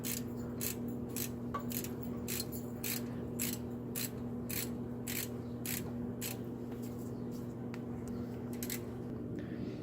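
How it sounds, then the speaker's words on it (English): A hand ratchet works a bolt loose on a Ford rear differential cover, an Expedition or F-150 of 1997–2003, with steady repeated pawl clicks over a constant low hum from the workshop. "We are currently removing the first bolt where the identification tag is."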